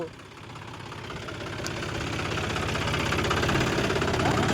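A John Deere 5045D 4WD tractor engine runs with a thresher hitched behind, bogged down: a steady, rhythmic diesel chug that grows gradually louder and heavier over the stretch, with no talk.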